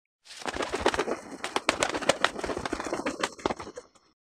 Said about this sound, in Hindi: जैसे पक्षी जब अपने पंख को फड़फड़ाते हैं तो हमें ध्वनि सुनाई देती है